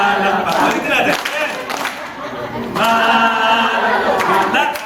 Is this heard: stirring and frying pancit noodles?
no